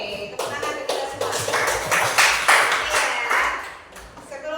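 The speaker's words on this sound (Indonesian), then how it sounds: "Oke, tepuk tangan untuk kita semua" A classroom of students claps hands together, a dense run of quick, loud claps lasting several seconds, with voices mixed in.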